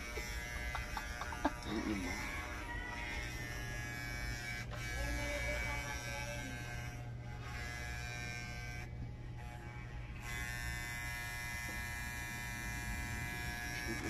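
Electric clipper buzzing steadily while cutting a pet's thick hair during a home grooming session at close range, with people talking and laughing over the hum throughout.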